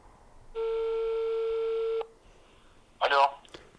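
A phone call placed from a Kieslect KS Pro smartwatch gives one steady, loud ringback tone lasting about a second and a half in a quiet room, followed after a pause by a brief voice answering.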